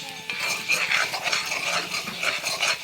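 Bottle gourd leaf bharta is stirred in a pan, a close, continuous scraping and clinking of a utensil against the metal surface with soft sizzle beneath.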